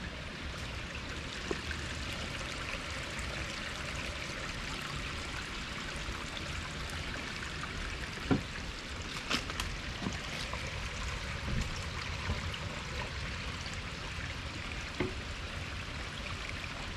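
Water from a natural spring flows steadily through a city park, a soft continuous trickling stream with faint occasional ticks and knocks in the background.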